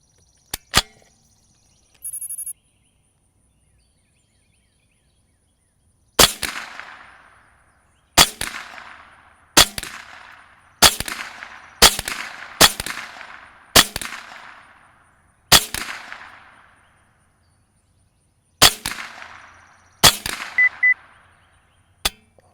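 About ten sharp, loud rifle shots are fired at a downrange target, each with a short ringing decay. They come at irregular intervals, a few seconds apart, with a couple of faint clicks beforehand and no talking.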